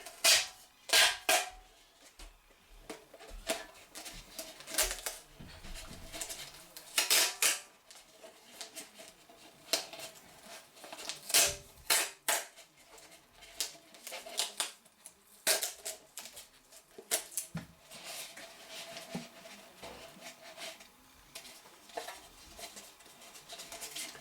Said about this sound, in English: take some tape. Tape it around the edge.